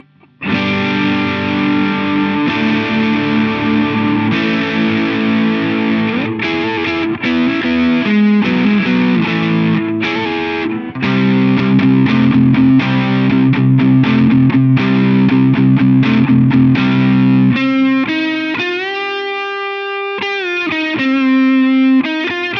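Electric guitar through an MXR Custom Badass Modified O.D. overdrive pedal, gain at three o'clock, plays loud, gritty chords and riffs, ending in sustained distorted notes that ring out alone.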